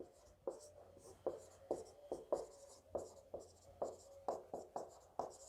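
Writing on a board during a physics lesson: a steady series of sharp, rhythmic strokes and taps, roughly a dozen in a row, fairly faint, with no talking over them.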